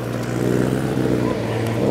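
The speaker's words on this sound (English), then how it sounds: "Well, his car is so loud." A loud, rumbling car engine idles nearby, a steady low drone with slight surges, filling the whole moment without speech.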